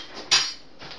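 A spoon is picked up in a home kitchen while a salad is being assembled, giving a single short metallic clink close by, followed by a faint softer clatter.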